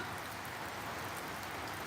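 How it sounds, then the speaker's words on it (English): Soft, steady rain patters evenly on a barbecue shelter roof, a dense continuous hiss with no voices. "Oh, the sound of the rain is really, really nice"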